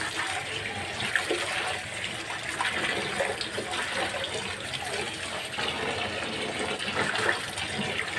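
Tap water runs steadily into a kitchen sink as Malabar spinach leaves are washed, a continuous close gushing splash with no voices.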